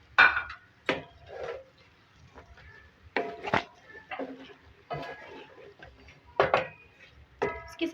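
Sliced okra and onions are stirred in a pan, making irregular wooden scrapes and knocks with short bursts of clatter and quiet gaps between strokes, close and fairly soft.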